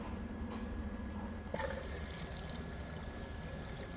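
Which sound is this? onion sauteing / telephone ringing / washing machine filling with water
washing machine filling with water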